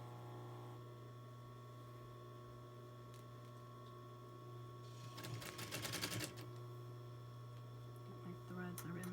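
A sewing machine stitches a fabric face mask, with a short burst of rapid stitching in the middle over a steady low electrical hum.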